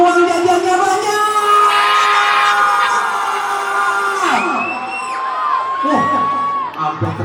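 Schoolchildren at an Isra' Mi'raj celebration shout and cheer together, a loud crowd of high voices sustained for several seconds, with rising whoops and yells breaking through near the end.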